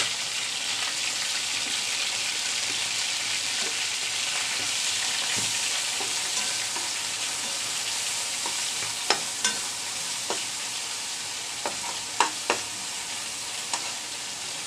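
Grated garlic and onion frying in oil in a pan for a broiler chicken curry, a constant loud sizzle that runs throughout, with sharp spoon clicks against the pan coming in toward the end.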